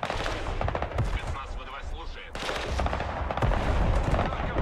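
Bursts of rapid automatic gunfire are aimed at artillery during a Broken Arrow battle. Dense stuttering volleys are loud and close, with a short lull in the middle before the firing resumes, and faint voices sit underneath.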